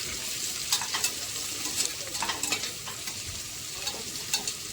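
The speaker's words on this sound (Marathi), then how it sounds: "आता ह्याच्यात 2 मिरच्या आणि कांदा टाकून घेऊया आणि थोडा फ्राय करूया" Two green chillies and onion frying in a pan, a steady sizzle broken by repeated light scraping and stirring clicks throughout.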